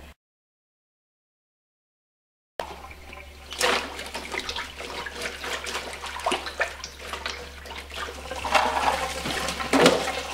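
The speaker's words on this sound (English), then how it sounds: "Now just do a quick rinse of all of it." Rhubarb stalks are rinsed under running tap water, heard as a steady close stream splashing over them after a brief silent start.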